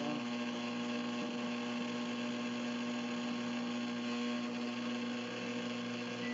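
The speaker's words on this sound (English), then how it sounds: "Jimmy, what you heard was my oven heating up" An oven heating up to 350 degrees gives off a steady, faint mechanical hum with a constant low drone and a fan-like whir, unchanging throughout and with no talking.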